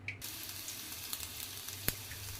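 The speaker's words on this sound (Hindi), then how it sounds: "जीरा अदरक भूनने के बाद जीरा खूब अच्छे से चटक रहा था" Cumin seeds and grated ginger roast in hot oil for a vrat thali and give a faint, steady sizzle with a few tiny crackles and one sharp click near the end.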